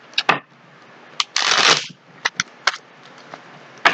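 Tarot cards are shuffled near the microphone: a burst of riffling flutter between scattered sharp taps and snaps.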